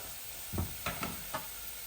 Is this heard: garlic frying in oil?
yes